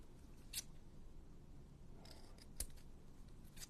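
Scissors recut paper for a junk journal in a quiet room, giving a few faint, sharp snips spaced out over a soft background hiss.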